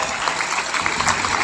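Steady, dense applause from an audience welcoming a guest at a religious gathering, continuous clapping filling the whole stretch at an even, fairly loud level.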